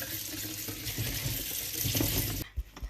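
A vegetable washed under a running kitchen tap, a steady close rush of water splashing into the sink that cuts off near the end, followed by a few small knocks.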